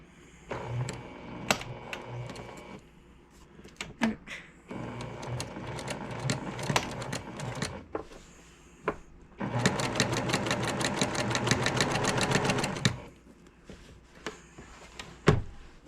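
A sewing machine stitching a quilt border runs in steady rhythmic bursts of fast mechanical clatter, close and clear, with pauses and small handling clicks between runs and one long fast stretch.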